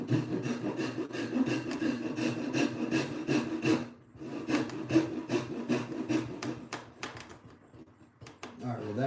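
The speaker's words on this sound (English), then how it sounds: "Chisel it down. That'll be easy to chisel." A chisel scrapes and pares wood in a home workshop during work on a bunk bed ladder, with steady, close rasping strokes and a brief pause, while a person talks over it.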